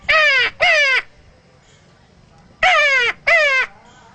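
A man imitates a mountain crow's caw with his voice, giving two loud, harsh caws in quick succession, a pause, then two more. The calls are close and clear.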